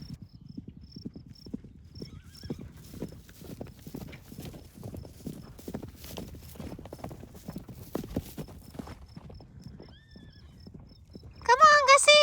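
Horses trot through a grass pasture with steady, rhythmic clip-clop hoofbeats close by, a whinny ringing out near the end.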